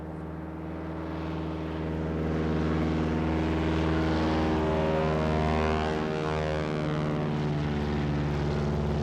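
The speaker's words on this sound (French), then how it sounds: "Là, un cargo américain qui vient de déposer armes et munitions sur la piste." An American cargo plane's propeller engines drone on a jungle airstrip during the 1966 Laos war, a steady loud multi-engine hum that swells and holds with no voices present.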